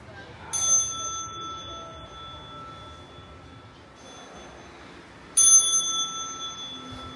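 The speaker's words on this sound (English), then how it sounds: "The Buddhist monk that was inside dingling the bell" A Buddhist monk strikes a temple bell in Nha Trang twice, several seconds apart; each bright metallic strike rings on with a long, fading tone over a faint background hum.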